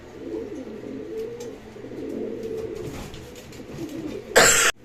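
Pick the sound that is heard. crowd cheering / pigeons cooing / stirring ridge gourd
pigeons cooing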